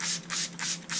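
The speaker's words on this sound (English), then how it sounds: "now what we're going to be doing is spraying this in here" A handheld spray bottle of Kangen water misted onto a stain, four quick crisp spritzes in an even rhythm, close and clear with no talking.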